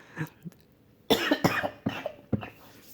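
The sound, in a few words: cough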